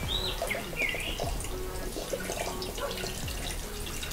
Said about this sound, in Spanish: Colocamos el vinagre de arroz